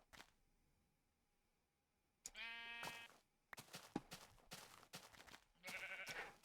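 Several blocky Minecraft sheep bleats in a video game, short wavering cries repeating in bursts with brief clicks between them, fairly quiet and with no voices over them.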